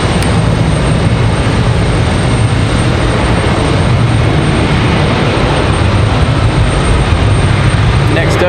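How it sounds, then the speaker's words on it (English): Frontier Airlines Airbus A321neo jet at Raleigh-Durham International Airport, a loud, steady broadband engine roar sustained throughout, with a voice speaking over it. "that A321, that NEO."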